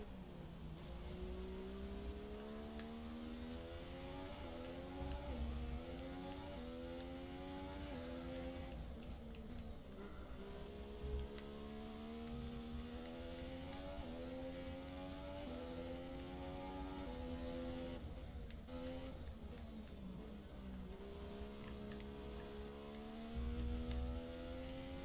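A Formula 1 car in F1 2017 accelerating, its high engine whine climbing through gears in repeated rising sweeps with quick shifts, a steady loud drone throughout.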